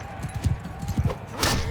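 Horse hooves clip-clop in Mount & Blade II: Bannerlord, a quick run of soft, dull thuds at close range with a brief brighter burst near the end and some faint background noise.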